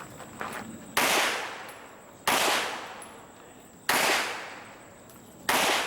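Pistol shots at an IDPA shooting match stage, four sharp loud reports spaced over a second apart, each ringing out with a long decaying echo outdoors.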